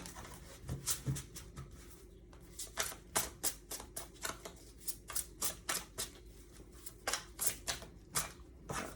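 Cards shuffled by hand in a steady series of crisp, rhythmic riffles and taps, close and clear, with no talking.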